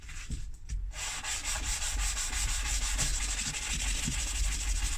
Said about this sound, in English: All I'm using here is a bit of 600 grit wet and dry sandpaper.